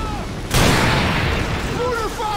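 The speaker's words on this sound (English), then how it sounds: "Mortar fire! Incoming!" Mortar fire in a war video game, with a sudden loud blast erupting into a rumbling explosion wash while a voice shouts over the noise of battle.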